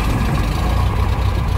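Light training aircraft's piston engine running just after start-up, a loud, steady low rumbling idle near at hand, continuous with no voices.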